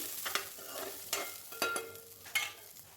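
Eggs fry lightly in a pan for egg curry, a soft sizzle broken by several sharp stirring scrapes and clinks at irregular intervals, with no talking.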